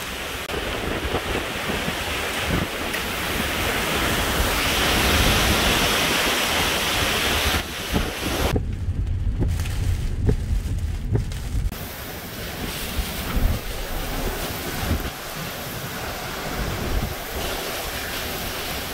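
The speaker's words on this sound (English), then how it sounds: "Wind's really picking up now." Hurricane Laura's wind roars steadily in Sulphur, Louisiana near midnight, a loud broadband rush with gusts and buffeting on the microphone, dipping briefly midway before surging again, with no voices.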